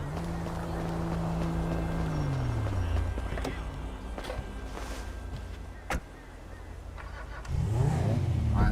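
A car in GTA 5 approaching with a low engine note dropping in pitch, steady background game ambience, a sharp click midway, then the engine rising again near the end.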